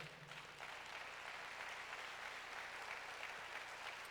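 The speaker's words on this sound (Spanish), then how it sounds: "Da un aplauso al Señor." A church congregation applauds during a sermon, a soft, steady wash of clapping that holds evenly throughout, heard at a distance with no talking over it.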